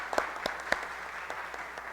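Audience applause at a Yellow September talk, a spread of claps with a few sharper hits standing out, moderately distant and fairly soft over a steady roomy background.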